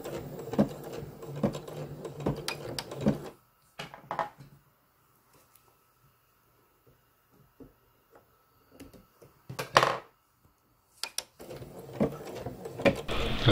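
A Bernina embroidery machine with an XY table stitches pink thread, a fast rhythmic mechanical clatter in bursts that stops, leaves near-silence with a few faint ticks, then starts again.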